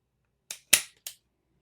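A Beretta 92G Elite LTT 9mm pistol dry-fires on double-action trigger pulls: three sharp, close clicks spaced about a quarter second apart against near silence.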